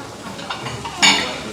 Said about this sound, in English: it's still sizzling slightly